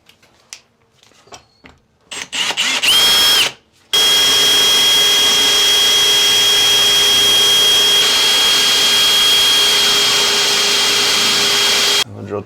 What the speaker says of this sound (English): we're gonna drill some holes with my drill here